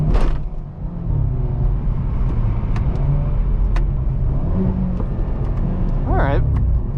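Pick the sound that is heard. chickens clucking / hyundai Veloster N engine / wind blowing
hyundai Veloster N engine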